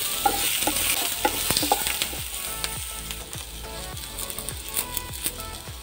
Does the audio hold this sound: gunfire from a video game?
no